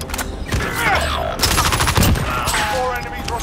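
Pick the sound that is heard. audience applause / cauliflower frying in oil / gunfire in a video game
gunfire in a video game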